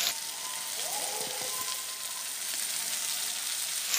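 Carrot and papaya pieces drop into a pan of chicken stew, setting off a loud, steady sizzle with a brief rustle and stir as they land.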